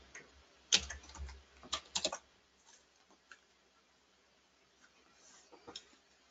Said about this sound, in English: You can watch what I was typing.